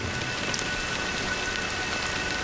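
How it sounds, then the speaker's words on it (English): Steady rain pours in the video game Honkai: Star Rail, a dense, even hiss of falling drops that stays constant throughout, with no voices. "But it's still raining."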